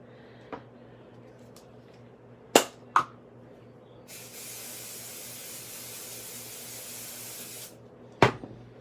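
An aerosol surface spray can sprays onto a ceramic piece in one long steady hiss lasting several seconds, with a few sharp clicks and taps before and after it.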